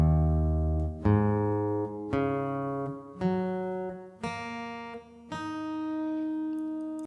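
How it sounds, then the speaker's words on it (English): An acoustic guitar tuned half a step down, with strings plucked one at a time in six separate notes about a second apart, each ringing and decaying, clear and close with no talk. "So your guitar should sound like this."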